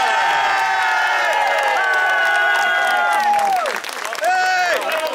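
A crowd at a women's cycling podium ceremony in La Rochelle cheers loudly, with sustained whoops and high shouting voices, some children among them, over a dense steady roar that dips briefly near the end.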